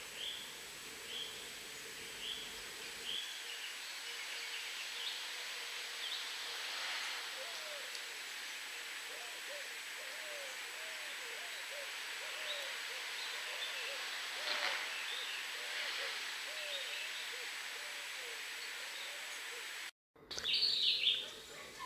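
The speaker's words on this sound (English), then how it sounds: "male pigeons can be heard cooing in trees such as this one." Soft, low cooing phrases from male white-crowned pigeons in trees in the Bahamas repeat steadily through the clip, distant and faint under rustling leaves and light outdoor ambience.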